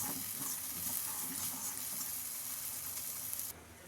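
Okra sautéing in a pan for curd pachadi, a soft continuous sizzle with faint stirring, fairly quiet, dropping away abruptly near the end.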